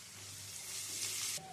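Sliced onions with salt sizzle in a hot pan: a brief, bright, steady hiss that swells for a moment and then drops off sharply near the end.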